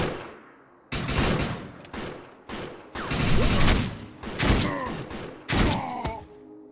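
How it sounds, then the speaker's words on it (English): Rapid bursts of gunfire in the video game Defiance crack and echo almost continuously, loud and close, with volleys overlapping and decaying into one another. "I am being shot at."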